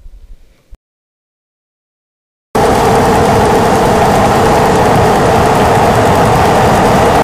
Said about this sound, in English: The starter spins the engine briefly to give an audible signal that the starting sequence has initiated